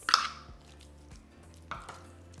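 Hatch peppers and refried beans being stirred together for chimichanga filling, with a few soft, wet squishing and scraping strokes against a bowl, close and quiet, spaced apart with brief pauses.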